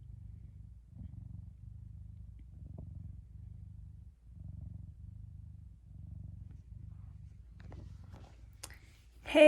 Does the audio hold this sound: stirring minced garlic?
no